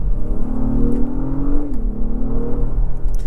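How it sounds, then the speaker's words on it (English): Inside a 2024 Acura MDX Type S, its V6 engine revs up through a gear, the tone climbing then dropping sharply at the upshift with a few faint crackles, continuous and close with cabin rumble underneath. "We have like the little crackles on the upshift"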